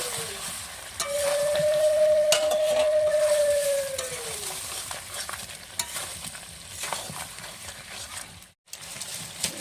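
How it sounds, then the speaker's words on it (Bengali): Village-style chicken and potato curry being stirred in a pot, a steady scraping and sloshing that runs through the whole stretch, with a sustained whistling tone near the start. "এখন একটু ভালো করে নেড়ে চেড়ে নেবো।"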